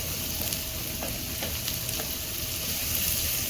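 Ginger, garlic and chopped onion sauté in hot oil for restaurant-style mixed fried rice, giving a steady close sizzle with a few soft stirring scrapes throughout.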